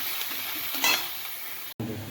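Chopped onion, dry red chilli and black cumin fry in hot oil for fish bharta, giving a steady close sizzle that swells briefly midway and cuts out for an instant near the end.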